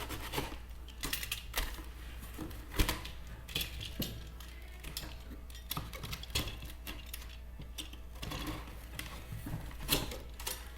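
A utility knife scores and cuts through a plastic sheet, giving a run of short, sharp clicks and scrapes that repeat irregularly at close range over a steady low hum.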